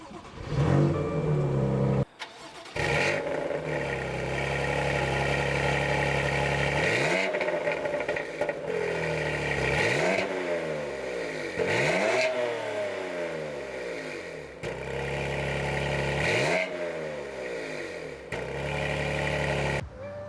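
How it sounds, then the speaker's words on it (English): A 2020 BMW M2 CS with a six-speed manual starts up and revs repeatedly, loud and close, its engine note climbing in sharp sweeps and dropping back between several throttle blips over a steady idle. "to start the car, pull on the clutch and you start the car"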